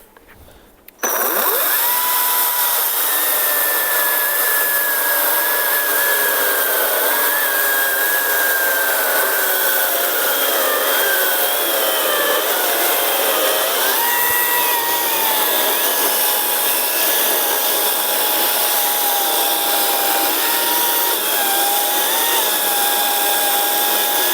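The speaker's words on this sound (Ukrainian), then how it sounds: "давайте підемо і затестимо цієї пили. Дрючок у нас кленовий" A Procraft PKA48Li cordless saw cuts through a maple pole with a loud, continuous high whine and rasping grind that starts abruptly after a second and runs unbroken to the end, its pitch wavering slightly under load.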